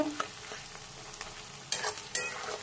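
Onions browning in a pan for crab curry give a low steady sizzle, then two sharper stirring scrapes near the end, close and fairly quiet, without speech.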